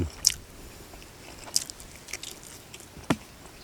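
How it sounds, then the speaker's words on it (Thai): Someone bites and chews steamed free-range chicken skin, with a few sharp, soft crunches and wet chewing sounds spaced apart, close and quiet, with no talking. "กัดเอาขึ้นหนังกินมา"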